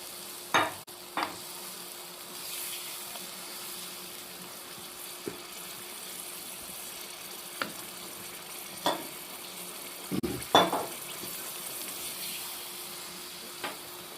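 Meat curry (rawan) cooking in a pan after about 200 grams of water is poured in, giving a low, steady sizzle with several short, louder stirring clatters and splashes spread through, no talking.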